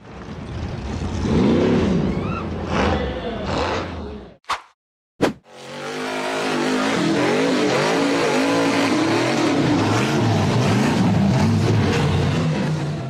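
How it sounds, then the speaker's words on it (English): An off-road buggy engine revving and accelerating hard up a dusty dirt slope in a forest, loud and close, cutting out briefly in the middle before roaring again steadily. "The buggy accelerated hard up a dusty dirt slope in the forest"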